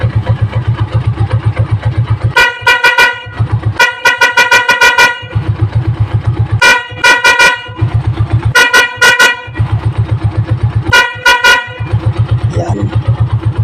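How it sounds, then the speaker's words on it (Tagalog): A Honda TMX motorcycle horn is tested in loud repeated honks, several short bursts in irregular groups over a steady low engine idle, close and dominant. "Tapos testingin natin yung busina."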